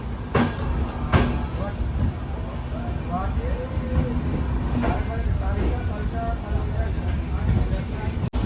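The Brahmaputra Mail train rumbles steadily along the rails after leaving Kamakhya Junction, a constant heavy roar with faint clatter, and indistinct voices murmuring underneath.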